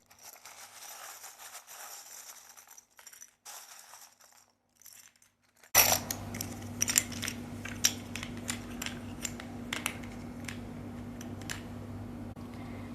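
Tarot cards are shuffled with a series of crisp, irregular ticks and flicks, close by and fairly quiet, over a low steady hum.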